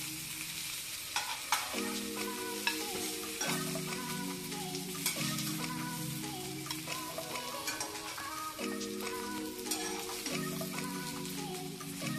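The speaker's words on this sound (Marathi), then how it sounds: "आता मच्छी फ्राय झाली तयार, काढून घेऊया." Catla fish frying in a pan, a steady crackling sizzle with scattered sharp pops, heard close with no talking.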